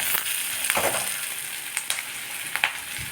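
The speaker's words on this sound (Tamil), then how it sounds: "இந்த பக்கம் நம்ம வெங்காயத்தை வதக்கிக்கணும்" Onions sizzle steadily in a hot pan for sambar, with occasional scraping and stirring clicks close by.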